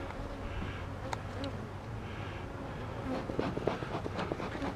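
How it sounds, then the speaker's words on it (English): Bees swarm and buzz around beehive nucs, a dense close-up drone with individual insects darting past, steady and fairly quiet, with a few soft handling noises near the end. "these are teeming with bees too."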